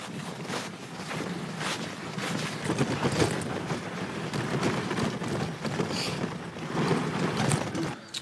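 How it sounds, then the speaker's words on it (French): Strong wind buffets the microphone in continuous gusty roaring, loud and close, with no voices. "Il y a beaucoup de vent. Beaucoup de vent."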